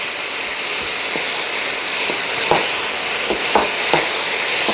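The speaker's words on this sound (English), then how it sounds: "Okay, let's give it a good stir fry." Vegetables stir-fried in a hot pan with rice wine hiss and sizzle steadily and loudly, punctuated by a few scraping utensil strokes.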